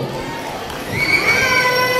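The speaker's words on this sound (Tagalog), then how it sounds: "Palakpakan may hiyawan" A crowd at a lively Filipino stage event cheers and shouts for a newly introduced guest, with scattered voices building to a louder, denser roar after the first second.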